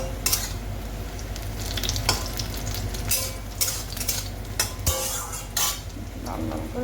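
Eggplant fries and sizzles in a pan while a utensil stirs it, giving a steady hiss broken by scraping and metallic clinks against the pan, close and fairly loud with no talking.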